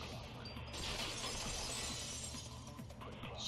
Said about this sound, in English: the girls heard the sound of the window shattering